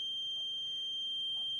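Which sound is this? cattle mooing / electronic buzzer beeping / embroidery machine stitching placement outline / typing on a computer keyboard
electronic buzzer beeping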